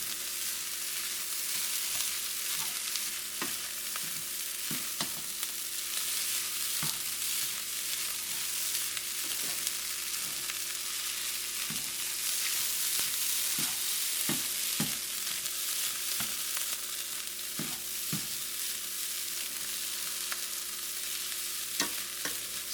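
Andouille sausage fried rice being stirred in a hot pan, with a steady sizzle of frying and repeated scraping and clinking from the stirring utensil throughout, no voices.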